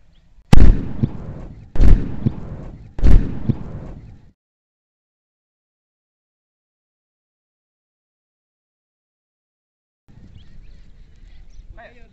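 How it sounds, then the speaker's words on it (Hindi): Three loud homemade petrol bomb blasts in quick succession, sharp booms each trailing off, followed by long silence and then faint distant murmuring outdoors. "आप देख सकते हो क्या ही बम फूटा है"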